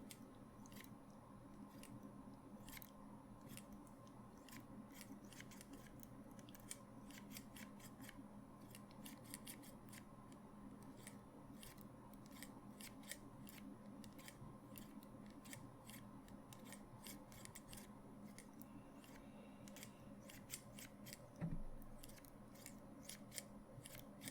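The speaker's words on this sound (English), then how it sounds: "Scissors." Scissors snipping in a quiet whispered setting, a long series of crisp close metallic clicks and cuts in irregular bursts, one soft thump near the end.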